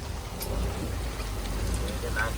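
Heavy storm rain falls outside at sea, a dense steady hiss and patter on surfaces that runs the whole time, with a voice speaking over it.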